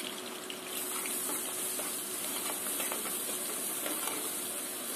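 Whole spices sizzle in hot oil for Telangana-style bagara rice, a steady soft hiss with faint crackles that holds evenly throughout, with no talking over it.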